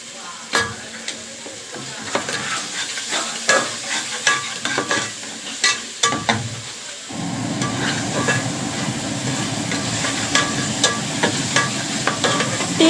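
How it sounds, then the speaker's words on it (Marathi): Dal with ginger garlic paste sautéed and stirred in a pan: repeated scraping stir strokes over a frying crackle that swells into a denser, louder sizzle midway, close and steady. "ती डाळ थोडा वेळ परतून घ्यायची आहे। चांगलं हलवून मिश्रण एकजीव करायचं।"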